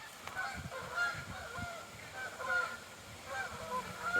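Wild geese honk as they fly overhead on a windy hike, a chorus of repeated calls in loose bursts drifting at moderate distance over steady wind noise.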